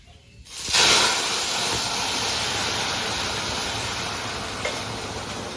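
Pumpkin greens hit hot oil already tempered with dried red chillies and panch phoron, bursting into a loud, steady sizzle that holds close and strong without pause.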